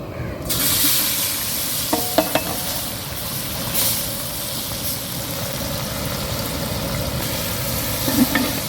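Onions fry in a large pot for boondi curry, giving a continuous sizzle with occasional stirring clinks. A low engine-like hum runs underneath, and nobody speaks.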